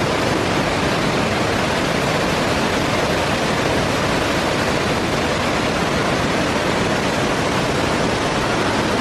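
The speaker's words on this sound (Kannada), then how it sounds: "ನವೆಂಬರ್ ಆದರೂ ಕೂಡ ಮುಗಿತಾ ಬಂದರೂ ಕೂಡ ಹೊಳೆ ನೀರಿದೆ ಇಲ್ಲಿ ನೋಡಿ" Abbi Falls waterfall pouring down from dense forest in November, a loud, unbroken roar of rushing water that fills the whole scene with no other sounds above it.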